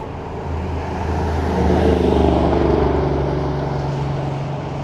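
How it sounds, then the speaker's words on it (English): A loud car on a Toronto city street at night, passing close with a steady engine roar and road rumble that swells in the middle and eases off, no talk over it. "Oh, a loud car."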